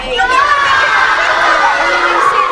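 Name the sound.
audience applause and cheering at school performance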